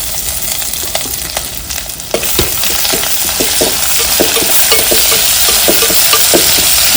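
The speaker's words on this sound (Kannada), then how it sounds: "ಈಗ ಇದಕ್ಕೆ ಸಣ್ಣದಾಗಿ ಕಟ್ ಮಾಡಿ ಇಟ್ಕೊಂಡಿದ್ನಲ್ಲ ಈರುಳ್ಳಿ ಹಾಕ್ತಾ ಇದ್ದೀನಿ" Chopped onions and green chillies sizzle steadily in a hot pan for a village-style papaya stir-fry, with a broad continuous hiss and repeated close scraping clicks of a spatula stirring throughout.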